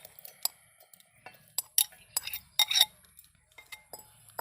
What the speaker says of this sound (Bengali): এবার আমি মিক্সিতে এগুলোকে ভরে নেব।